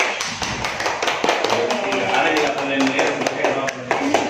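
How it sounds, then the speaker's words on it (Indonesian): Workshop participants at a school leadership session applaud together, a burst of crisp, fairly close hand claps with sharp individual taps mixed into the dense clapping, with some voices underneath. "Tepuk tangan untuk kita semua."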